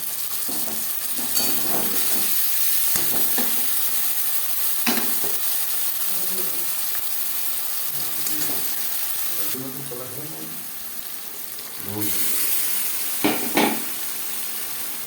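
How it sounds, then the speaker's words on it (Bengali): Marinated chicken fries with onion and tomato in a pan for chicken biryani, a loud sizzle broken by repeated scraping stirs and brief bursts of louder crackle, with a voice heard faintly at times. "পেঁয়াজ টমেটোর সাথে ম্যারিনেট করা মাংস বেশ ভালো করে মিক্স করে দেবো"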